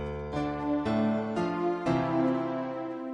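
Music blocks in the Fortnite video game playing a short phrase of a song, with four bright, synth-like note attacks in steady succession, clear and moderately quiet.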